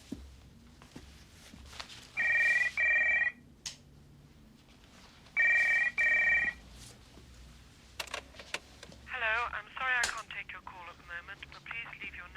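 A telephone rings in a tense police office setting: two bursts of a shrill electronic double ring, each about a second long, with footsteps and indoor room noise between them, followed by muffled talk near the end.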